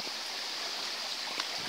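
Water flowing in a small moorland stream at Ilkley Moor near White Wells, a steady, soft, hissing rush that stays even throughout, heard from nearby and fairly quiet.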